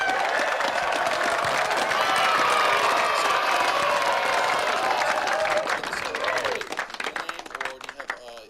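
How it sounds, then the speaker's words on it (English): Live studio audience applauding and cheering on a pizza-themed live show, a dense wash of clapping that runs steadily, then thins and fades near the end. "let's just get applause from the audience here really quickly"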